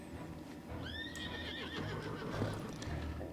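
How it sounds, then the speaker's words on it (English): A horse mount in World of Warcraft gives a loud rising-and-falling whinny, followed by soft clip-clop hoofbeats, with no talk. "Let's hop on my horse."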